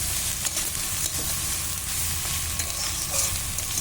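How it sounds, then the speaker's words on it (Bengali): Radish and egg frying in a pan, a loud, dense, unbroken sizzle with faint stirring scrapes underneath, heard close up with no voices. "এবার এটা সুন্দর করে ভেজে নেবো আর একটু ভেজেই আমি নামিয়ে নেবো"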